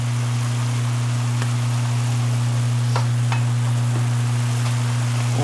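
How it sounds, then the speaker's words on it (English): Greens simmering in a pan give a dense, steady sizzle, loud and close, with a constant low hum underneath and a few faint ticks, and no talking. "let that simmer"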